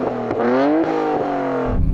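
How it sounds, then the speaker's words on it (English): Nissan Skyline R34 engine revved in short sharp blips, rising and falling twice in quick succession, loud and close with no talking. "Go on, rev up the R34."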